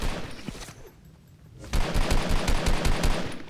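Video game gunfire sounds as a rapid burst of shots, a quick rattling string of loud, evenly spaced cracks following a quieter stretch.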